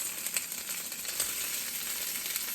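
Bacon ends and pieces frying in a pan give a steady close sizzle with a dense hiss and small popping crackles scattered throughout.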